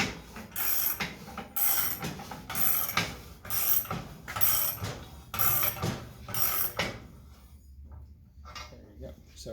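A Cammeck super heavy duty adjustable slip roller is cranked through a metal workpiece, giving a regular series of loud mechanical clanks and ratcheting bursts about once a second, close by, before the rolling stops and the room goes quiet.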